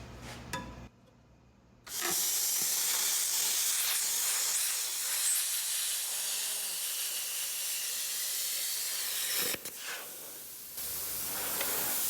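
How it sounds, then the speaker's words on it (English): A VersaCut 60 plasma cutter slices through thin sheet metal on a 1966 Ford Mustang, giving a loud, steady, broadband hiss that starts abruptly and runs for about ten seconds, then cuts out briefly before resuming. "let's go ahead and see if this VersaCut 60 plasma cutter can do some damage to this Mustang"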